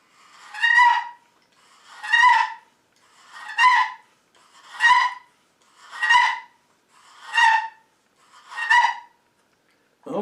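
Seven raspy, squawking turkey yelps from a wooden box call, evenly spaced about a second and a half apart, close and clear with no talking.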